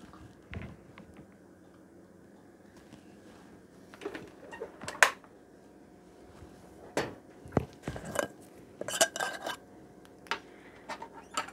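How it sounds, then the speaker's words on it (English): A can of fruit is opened in a home kitchen: scattered metallic clicks, scrapes and clanks, sparse at first and then clustering in the second half, close and fairly quiet. "Let me get this fruit opened."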